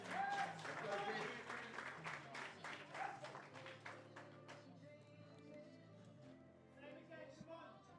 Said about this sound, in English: Please give a polite round of applause for Chris.